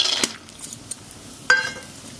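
Peanuts rattle and scrape in a pan as they dry-roast with panch phoron spices, a few sharp clinks and brief sizzling stirs standing out against a quiet background.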